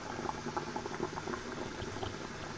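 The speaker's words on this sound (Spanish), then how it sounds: "mientras nuestros ingredientes ya están empezando a hervir" Cooking liquid bubbling steadily in a pot on the stove before king crab legs go in, a dense, continuous close boil with constant popping and no talk.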